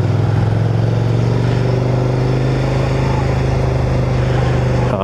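A Suzuki SV650 motorcycle's 650cc V-twin engine while being ridden, giving a loud, steady low rumble at constant throttle with wind noise, close-up, throughout.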